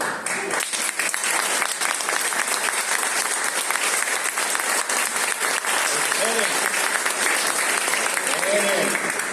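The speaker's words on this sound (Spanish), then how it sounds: "guárdense los aplausos, que ahora viene lo bueno" Applause from a university audience at an education reflection event, a steady wash of clapping filling the whole stretch, with a speaking voice faintly underneath near the end.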